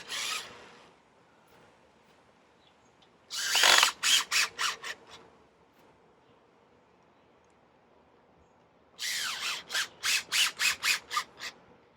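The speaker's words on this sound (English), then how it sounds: "You want to make sure that your drill is in line with your screw." A cordless power drill drives screws into a greenhouse frame in two loud bursts, each a long whir followed by several short pulsing spins as the screw seats, separated by quiet pauses.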